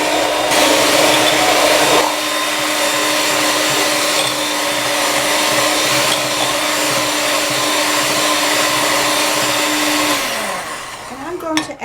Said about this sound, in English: so now I want to start the mixer